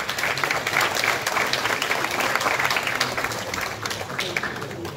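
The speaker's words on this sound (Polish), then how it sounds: "Poprosimy o brawa dla nich również." Audience applause for award winners at the Złote Sakiewki 2023 gala, a dense, even wash of many hands clapping in a hall, steady and fairly loud with no speech over it.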